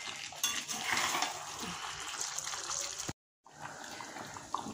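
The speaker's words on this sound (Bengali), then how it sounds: "এবার একটু জল দেবো আর ওপর থেকে গরম মশলা।" Water pours steadily into a pan of browned chicken curry on the stove, a continuous splashing hiss with a short break before the pouring resumes.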